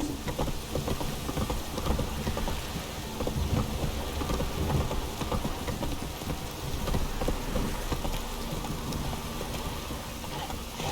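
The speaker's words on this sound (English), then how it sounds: "This downpour's a bastard" Heavy rain in the video game The Witcher 3: Wild Hunt pours steadily with low rumbling underneath, a dense continuous downpour without pauses.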